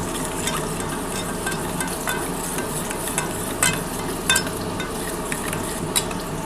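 A spice mix is stirred with water in a bowl, giving a rough continuous scraping and swishing with small clinks and taps, close and fairly steady, no voices.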